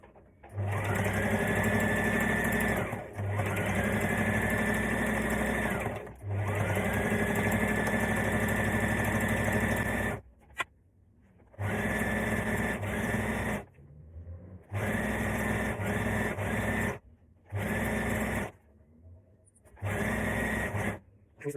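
A sewing machine stitches a maxi skirt in a series of loud, whirring bursts. Long runs come first, then shorter spurts separated by brief pauses.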